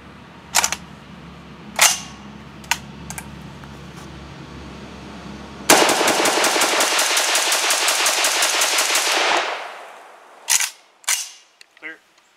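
A Galil ARM replica airsoft rifle at an outdoor range fires a few single shots, then a sustained full-auto burst of rapid snapping shots lasting several seconds, followed by a couple more single shots nearby.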